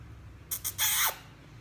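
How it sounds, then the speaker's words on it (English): A kiss on a hat: two quick soft smacking bursts followed by a longer breathy, hissing smack, close by and fairly crisp against a quiet background, no talk. "That's the sound of Dad kissing me on the hat"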